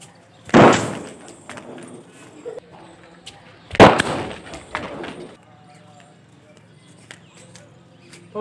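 An anar firecracker with a rocket goes off in two sharp loud bursts a few seconds apart, each followed by crackling fizz, with people talking in between.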